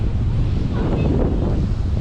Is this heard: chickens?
no